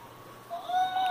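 A small kitten gives a rising, tonal meow in the second half, close and fairly clear over a quiet room background.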